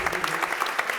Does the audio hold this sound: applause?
yes